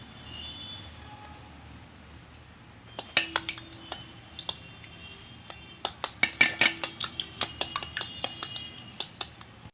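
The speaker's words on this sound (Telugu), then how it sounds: "ఇలా ఎగ్స్ కొట్టినాక" Eggs beaten with a utensil in a bowl for fried egg coin biscuits: quiet at first, then bursts of rapid, bright clinking strokes against the bowl, loud and close, in a steady rhythm through the second half.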